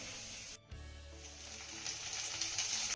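Chopped spring onions drop into a pan of ginger and garlic frying in oil, and a soft, steady sizzle swells after a brief break, faint and close with no voices.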